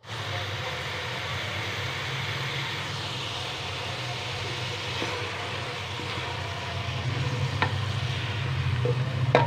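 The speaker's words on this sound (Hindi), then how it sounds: "तो बस इसको मैं भून लेती हूँ और इसमें दाल को शामिल कर देती हूँ" Boiled cabbage frying in a pan with dal being added, a steady close sizzle with soft stirring scrapes that grows slightly louder toward the end, no voices.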